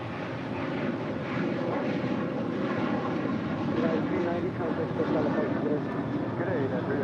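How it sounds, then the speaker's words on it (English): Philippine Airlines flight 113 takes off from runway 24 left on the north side of Los Angeles International Airport, a sustained moderate jet roar swelling slightly midway, under a voice talking. "Philippine Airlines sending back to Manila, flight 113, taking off there on the north side at 24 left."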